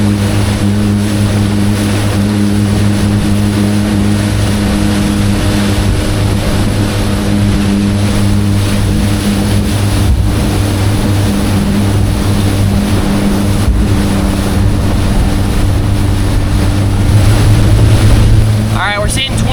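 A steady outboard engine drone from an East Cape EVO boat held near 3,000 RPM, loud and constant with a strong low hum and wind and water rush layered over it for the whole stretch.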